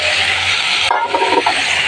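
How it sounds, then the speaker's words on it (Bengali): Vegetables dropped into chicken frying in a pan: a strong steady sizzle breaks off with a thump, then bursts into a fresh crackling hiss close up, with no talking. "চিকেনটাকে একটু কষিয়ে নিয়ে তারপরে এবার সবজিগুলো ছেড়ে দিচ্ছি"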